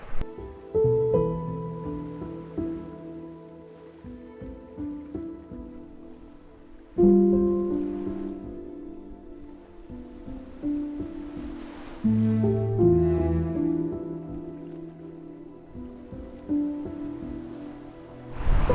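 Stormy, pounding surf rolls into a Cape Cod harbor at high tide, with loud rushing waves surging and breaking in uneven swells, nearby and with no voices.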